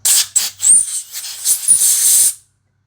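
An aerosol can sprays into the engine of a Toro TimeMaster 21199 lawn mower in loud, close hissing bursts, several short puffs and then a longer steady spray that cuts off.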